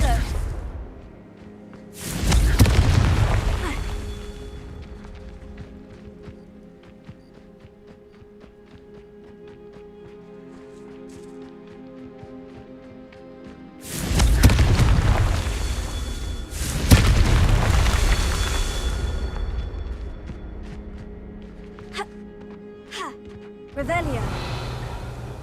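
Loud booming blasts from Confringo fire curses in the video game Hogwarts Legacy, several heavy explosions spaced apart over an ambient game soundtrack, with a player's voice speaking at times.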